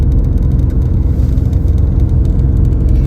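Steady low engine drone of a Mercedes with a 5-speed automatic transmission cruising around 40 mph, a continuous loud whir with no clear shift break and no talk.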